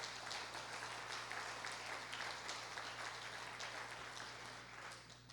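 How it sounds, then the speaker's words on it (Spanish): Applause rises from a congregation at a Spanish-language family church service, a steady, dense patter of many hands over a low hum, heard from a distance and fading slightly at the end. "Denle un fuerte aplauso al Señor"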